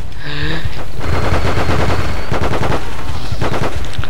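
Sustained automatic gunfire in the Battlefield video game with the AIX mod, dense bursts of rapid shots rolling continuously at loud volume, with distant and nearer weapons overlapping throughout.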